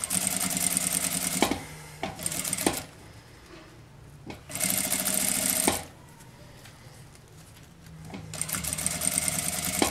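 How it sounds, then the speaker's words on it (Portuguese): A home sewing machine stitches bias binding around a fabric piece in bursts of fast, steady motor whir, stopping and restarting several times with quiet pauses between runs. "a gente acompanha o viés nas curvinhas e vai costurando ele por toda a volta"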